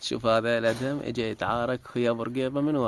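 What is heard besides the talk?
No distinct noise like a dog, phone or traffic.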